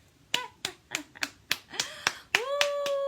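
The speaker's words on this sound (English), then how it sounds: "I need applause. I gotta give me some sound effects up in here, okay?" Hands clap about ten times at a steady, slightly quickening pace, close and crisp, with a few tonal effects chiming in near the end.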